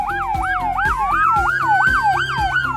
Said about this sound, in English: create a powerful 200-watt dual-tone siren